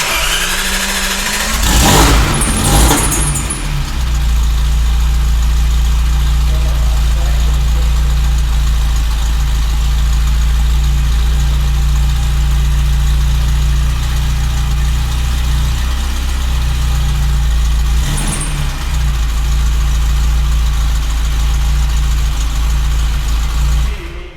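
A restored classic Ferrari with Weber carburettors and a choke idles steadily and loudly for the whole stretch, with a brief blip of revs near the start and another small rise near the end.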